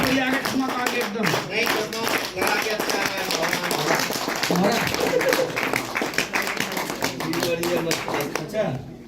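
Audience applause at a community celebration in Shimla, a dense, steady patter of many hands clapping throughout, with a voice talking loudly over it.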